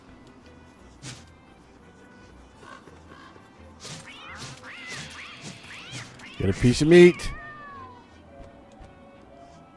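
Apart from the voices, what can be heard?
catcoon cat meowing in video game Don't Starve: Shipwrecked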